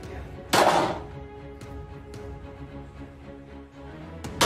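A single sharp gunshot bursts out near the start, followed by quieter background noise and a few faint clicks, sounding like playback from a recording.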